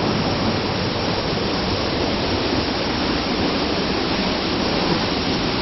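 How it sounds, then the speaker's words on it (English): The waterfall at Edessa, Greece, heard from behind the falling water: a dense, loud, unbroken roar of crashing water filling the whole space, steady and close with no voices. "You see what a waterfall looks like from the back."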